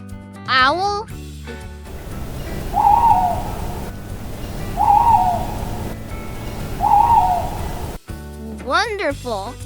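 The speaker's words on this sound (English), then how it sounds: "Owl." An owl hoots three times in evenly spaced, soft, low calls over steady rushing background noise, with a short voice at the start and end.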